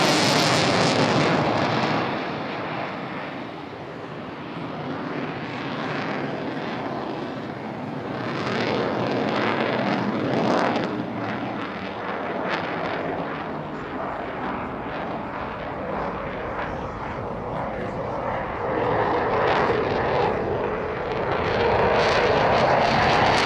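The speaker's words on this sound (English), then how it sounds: "we have our Typhoon running in for his display. You probably won't hear much from me because it makes a hell of a lot of noise." An RAF Typhoon fighter jet flies its evening display at the Scottish International Airshow, a loud roaring jet engine sweeping past with broad rushing noise and surging, Doppler-like swells that fill the whole stretch, no voices audible.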